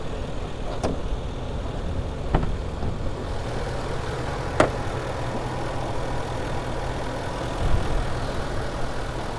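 A 2013 Range Rover Sport HSE idling with the hood open, a steady, smooth, low engine hum that runs the whole time, with a few faint clicks and knocks over it and no talk.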